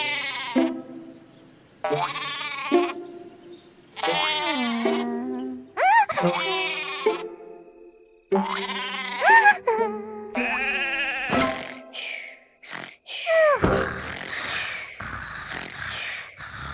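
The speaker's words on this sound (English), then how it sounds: "Sherbert counted 49 sheep and finally fell asleep" Cartoon sheep bleat repeatedly in a children's counting animation, a series of loud wavering bleats one after another with short gaps between calls.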